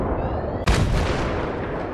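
A grenade explodes in Battlefield 3, one sudden loud, close blast cutting through the din of gunfire and battle noise, followed by a lingering rumbling tail.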